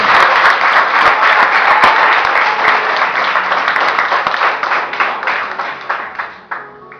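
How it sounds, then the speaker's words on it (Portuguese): A youth congregation at an Assembleia de Deus congress applauds, a loud sustained crowd clapping with some sharp individual claps that tapers off toward the end. "se aplaude mais uma vez"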